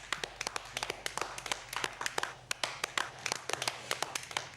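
Group of people applauding for a girl named Queen in a classroom-style gathering, sharp irregular hand claps, fairly close and moderately loud, with no talking.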